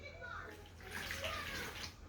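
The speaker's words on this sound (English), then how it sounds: "So first, you add the 1 cup of water" Water from a cup is poured into a bowl while making oobleck, a quiet continuous splashing gurgle lasting a couple of seconds, faint and close, with a voice faintly in the background.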